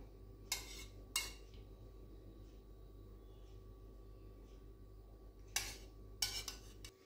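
Soft rasgullas dropped one at a time into rasmalai milk, a few faint separate clinks and light splashes against a bowl or spoon with quiet gaps between them.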